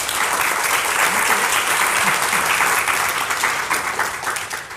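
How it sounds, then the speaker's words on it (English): Audience applauding to welcome authors at a panel discussion on caste, color and gender, a full steady roar of clapping that holds throughout and tapers slightly at the end. "let's welcome our authors with a round of applause."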